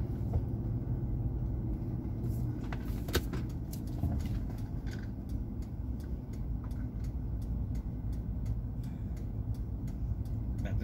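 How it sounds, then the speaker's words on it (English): A steady low rumble of cars and trucks moving through Marler Park on Okaloosa Island, Florida, heard close and continuous with faint rattles and clicks on top, and no talk. "Cars and trucks here."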